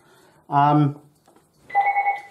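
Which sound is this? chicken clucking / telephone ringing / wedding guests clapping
telephone ringing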